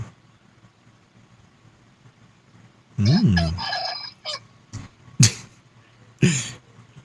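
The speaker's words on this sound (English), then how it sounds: "Where I'm at right now, there's roosters." Rooster crowing nearby in a residential setting, a loud drawn-out call followed by a few shorter sharp bursts, over a quiet background hum.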